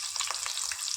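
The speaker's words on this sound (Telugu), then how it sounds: "పచ్చిమిర్చి ఇవి బాగా వేగనివ్వాలి. ఇలా వేగుతుండగా అల్లం వేసుకోవాలి." Onions and green chilies frying in a pan, a close, continuous hissing sizzle with a few brief crackles, steady and fairly loud with no voices.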